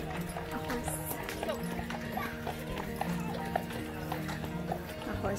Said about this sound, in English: A horse carriage.